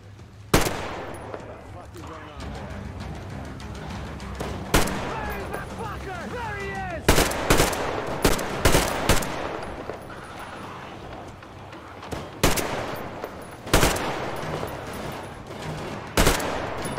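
Gunfire in the video game Metro Exodus, with loud scattered shots and short bursts cracking over a rumbling background, some spaced apart and some in quick clusters, while voices speak intermittently between them.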